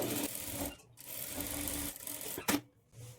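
A sewing machine runs in short bursts, stitching the belt of a Punjabi churidar dress pant with a one-inch margin, with a brief clatter and pauses between runs, close and fairly loud.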